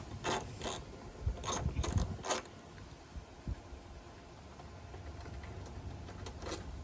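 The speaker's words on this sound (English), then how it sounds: "Find your trusty 10mm socket, the ever elusive 10mm, and loosen the 2 bolts on the sides of the assembly." A 10mm socket ratchet clicks in short quick bursts while loosening the bolts of a Jeep JK wiper assembly, the sharp ticks close and fairly quiet, with pauses and faint handling noise between them.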